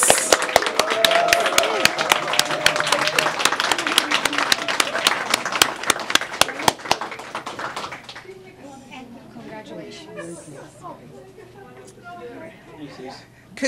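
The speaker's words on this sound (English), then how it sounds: "So can we have a round of applause for all the graduates?" A crowd at a Quincy College Pathmaker Program graduation ceremony applauds the graduates, strong clapping with sharp individual claps that fades after about eight seconds, followed by quieter room murmur and voices.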